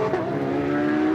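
A GT race car on the Circuit of The Americas track, turning into a triple-apex right-hander, gives a continuous close engine whine that holds a sustained pitch for the whole moment.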